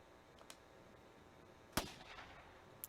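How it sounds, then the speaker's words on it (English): A single sharp handgun gunshot in the video game Anonymous;Code, a sudden loud crack with a short decaying tail against a quiet background, preceded by a couple of faint clicks. "A gunshot rang out."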